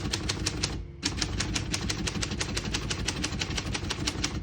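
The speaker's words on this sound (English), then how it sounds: "We're going to keep that on single for now and finish typing." A vintage portable typewriter clatters through a rapid, even run of keystrokes, close and crisp, with one brief pause early on before the typing resumes at a steady rhythm.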